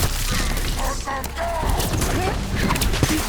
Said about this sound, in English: Watch yourself. They have Gatlock cannons.